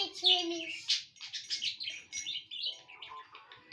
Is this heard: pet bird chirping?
yes